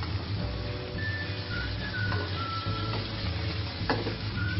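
Fish frying in a pan with added seasonings gives a steady, close sizzle and crackle, with faint thin whistle-like tones drifting above it; no one speaks.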